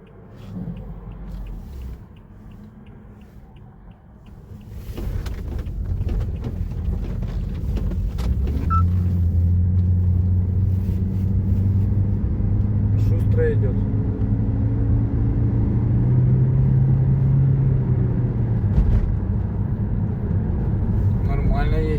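A Toyota Voxy hybrid minivan with a retrofitted Honda lithium battery drives along, its low road rumble swelling steadily as it accelerates, heard from inside the cabin beneath occasional conversation.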